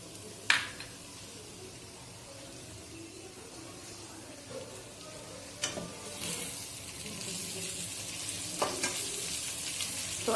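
Hilsa fish with taro stems sizzles softly in a pan as lemon leaves and green chilies go in, a steady low frying hiss broken by a few sharp clinks of a utensil against the pan.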